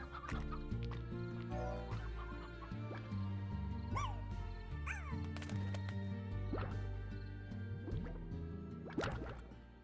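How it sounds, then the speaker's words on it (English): A hen clucks repeatedly with short, scattered calls over a dense background of other sounds. The clucks are fairly faint and mixed in with the surrounding noise. "Hen. Chicken, come."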